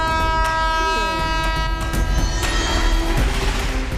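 A passenger train approaches in a Hindi-dubbed movie scene, with a loud continuous rumble, rail clatter and a sustained horn blast over a dense, full soundtrack.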